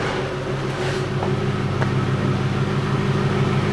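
A Lexus LS430 freshly fitted with new air bag suspension hums with a steady engine drone as it pulls away, the sound close and continuous with no voices.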